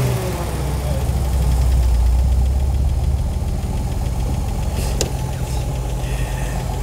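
A classic car engine runs steadily at idle, a close, loud low rumble that holds evenly throughout, with a brief faint click near the end.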